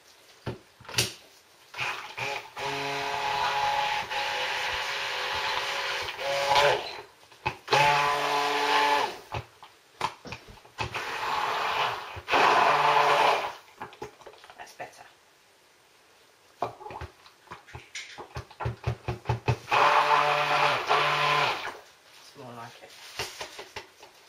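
A kitchen blender mixes cold-process soap batter in several short bursts of a few seconds each, separated by clicks, scraping and pauses, with a person talking between bursts.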